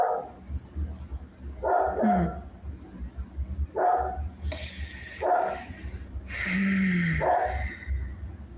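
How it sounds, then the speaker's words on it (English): A dog barks several times in short bursts at close range, mixed with whimpering yips, while people talk over it during a tabletop role-playing game session. "You can hear my dog, can't you?"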